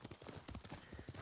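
Horse hooves clip-clopping during riding in the Ghost of Tsushima video game, a quick irregular run of close, distinct hoof strikes with no one talking.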